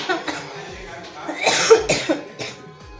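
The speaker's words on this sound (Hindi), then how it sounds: "मोर बहुत ज़्यादा वाला खांसी हो गया है।" Several harsh, chesty coughs close up, coming in a cluster of uneven bursts.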